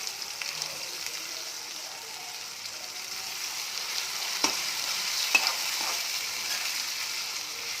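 Onion goes into hot oil over browned, caramelized sugar and fries with a moderate, steady hiss, broken by a couple of brief stirring knocks near the end, heard alone.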